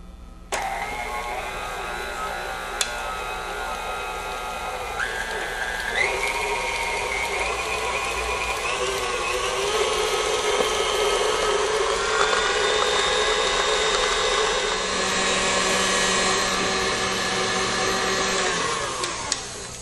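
Electric mixer beating egg yolks at high speed into a cream, a steady loud motor whine running alone throughout, its pitch stepping upward a few times as the batter thickens.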